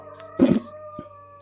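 A dog yelps or howls once at moderate distance, a short loud burst over a steady low hum, with a faint second sound shortly after; no one talks.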